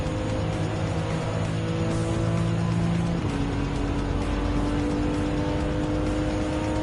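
Lancer Evo X Final Edition race car in Gran Turismo 7, its engine a loud, steady drone with a gear shift partway through, heard under continuous road and tire noise.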